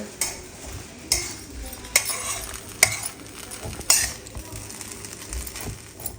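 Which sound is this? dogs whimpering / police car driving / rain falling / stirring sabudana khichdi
stirring sabudana khichdi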